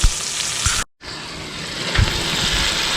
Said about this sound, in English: I want a little bit more sear than I got, but you see what I'm browning it a little bit on all 6 sides of this thing